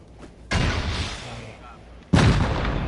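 Two heavy explosions boom in turn while a base is raided in Rust. Each is a sudden, loud, close blast with a rumbling tail, spaced about one and a half seconds apart.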